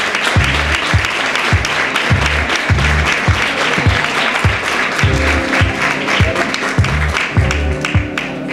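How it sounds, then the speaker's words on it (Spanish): Loud, sustained applause from an audience at a tribute ceremony for the Spanish cancer association in Marbella, dense clapping filling the room with a few rhythmic claps poking through. "Un aplauso fuerte"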